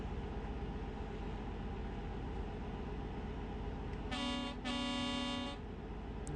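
A truck's air horn in Euro Truck Simulator 2 sounds two blasts in quick succession, deep and tonal like a foghorn, over a steady engine drone with no talk.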